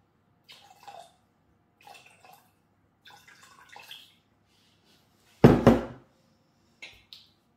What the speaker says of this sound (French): Donc là je vais mettre 300 g d'eau.